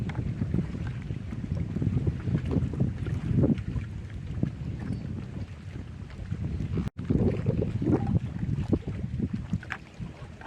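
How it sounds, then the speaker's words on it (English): Steady wind gusting and buffeting across an open lake around a fishing boat, a loud continuous roar with brief dips, heard alone with no talking. "That wind shear is not helping."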